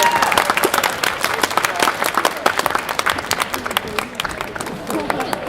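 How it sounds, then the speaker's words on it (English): Lively applause from a convention panel audience, many hands clapping close and loud, with crowd murmur and a few voices mixed in. "Give a big round of applause for Jacob."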